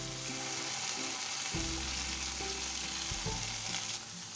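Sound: chicken reshmi kebab frying in a pan

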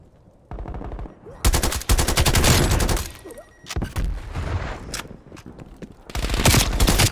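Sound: gunfire in video game Call of Duty: Black Ops Cold War

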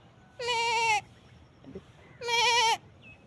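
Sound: person imitating a lamb bleating

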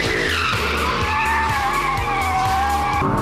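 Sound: sports car drifting with tires skidding

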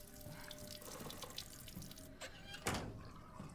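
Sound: water tap running in the video game Resident Evil Village

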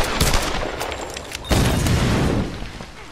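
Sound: pistol gunshots in the video game Tomb Raider Definitive Edition

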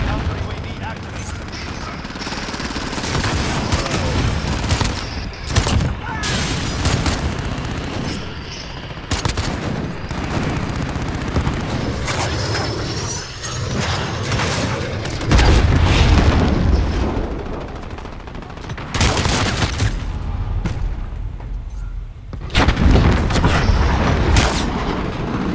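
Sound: gunfire in a Black Ops video game

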